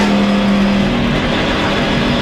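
NASCAR race car at Talladega pulling away from pit road, a loud sustained engine roar with a steady tone that shifts slightly as it moves off.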